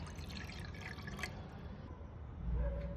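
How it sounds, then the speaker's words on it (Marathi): One cup of water poured into a pan for khichu, a soft liquid splash and trickle running steadily for a few seconds, close and fairly quiet, with no talking. "आपण 1 कप पाणी टाकणार आहोत."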